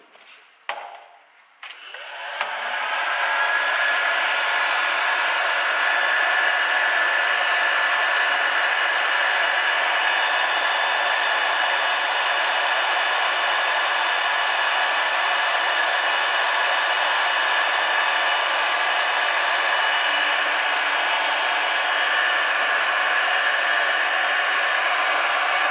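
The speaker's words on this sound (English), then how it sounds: "Now this heat gun should go up to, I think, 900 Celsius." A heat gun rated to roughly 900 Celsius blows steadily against a Lambretta scooter cylinder barrel, a loud, continuous airy roar that starts after a brief click and holds for the rest of the clip with no talk.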